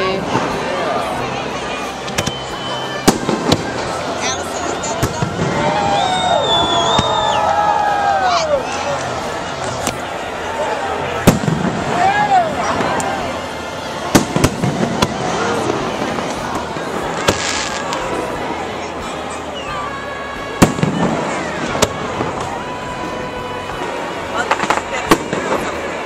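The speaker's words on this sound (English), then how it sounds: "This is fireworks in 3D, baby." July 4th fireworks burst over downtown Orlando in a rapid series of loud booms and crackles, with sharp pops scattered throughout and crowd voices chattering underneath.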